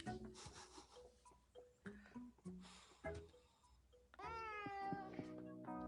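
Cat meows pitched into a tune, a TV theme played on a cat organ, a string of short melodic meow notes that end in a longer, sustained, harmonically rich cat cry.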